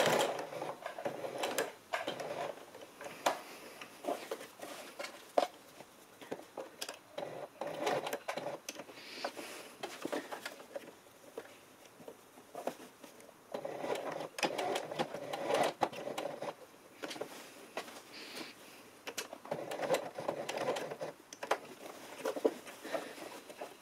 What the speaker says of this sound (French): on peut renforcer cette surpiqûre à l'aide d'une couture verticale comme ceci